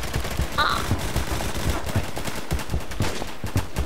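Assault rifle gunfire crackles in the Roblox game Phantom Forces, repeated rapid shots with other distant game noise underneath, fairly steady and without talk.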